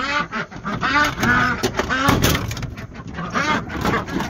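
Ducks quacking as they are let out of their small house in a homestead barn, with repeated overlapping raspy calls, some near and loud, mixed with rustling and a possible voice.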